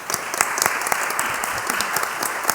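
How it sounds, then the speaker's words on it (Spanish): An audience at a talk on quality education breaks into loud, dense applause, many hands clapping steadily close by with no voices. "Un fuerte aplauso,"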